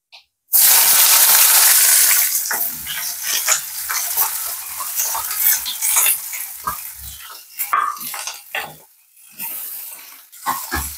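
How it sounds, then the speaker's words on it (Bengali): Onions hit hot oil already seasoned with cumin, whole garam masala and bay leaf, bursting into a loud sizzle that eases into a steady crackling fry, broken by scraping stirs of the spoon; no one speaks. "পেঁয়াজগুলো একটু লাল লাল করে ভাজা হোক"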